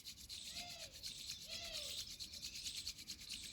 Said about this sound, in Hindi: नाउ रब योर पाम, दोनों हथेलियों को पूरा गर्म करना है, पूरा रब करना है जितना हो सके